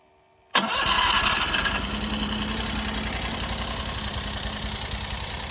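A mini skid steer's small engine cranks briefly, catches and settles into a steady, close, loud idle with a constant mechanical chatter, with no talking.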